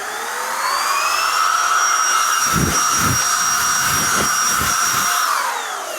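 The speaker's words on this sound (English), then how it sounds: "If you want a blower to blow all the dust away in that, keep the cobwebs at bay. Meliff blower." A Meliff blower spins up to a loud, steady high whine for several seconds while blowing dust away in a woodworking shop, with soft thumps partway through, then winds back down.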